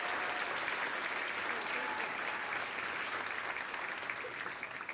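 Dense, continuous crowd applause at a congressional district swearing-in ceremony at UCLA, many hands clapping steadily at an even level from a large audience, with no voices on top.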